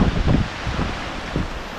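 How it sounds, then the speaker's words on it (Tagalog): Strong typhoon wind buffets and rushes in a brief, loud gust that booms against the microphone, then settles to a sustained roar with no voices. "Grabe, ang lakas. Lakas ng hangin, oh."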